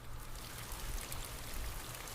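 Timefall rain in Death Stranding makes a soft, continuous patter of drops on surfaces with a low wet rumble underneath, faint and steady for a couple of seconds with no voices.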